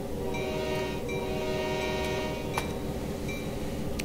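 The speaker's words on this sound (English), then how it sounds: "If you want, you can honk twice" A locomotive horn in the Train Sim World game blows two sustained blasts over a steady rumble of the moving train, with a bright click partway through and no talk.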